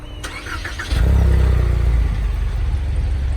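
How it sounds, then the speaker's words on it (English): A 2019 Ford Mustang starts by remote start, a brief cranking clatter followed by the engine catching into a loud, steady idle rumble up close. "Car started right up."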